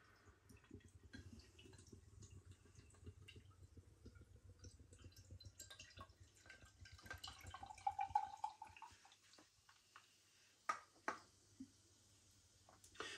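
Vigorous pour of a German pilsner from a freshly opened can into a glass, a soft, quiet splashing and fizzing that builds midway and ends in a few light drips and clinks.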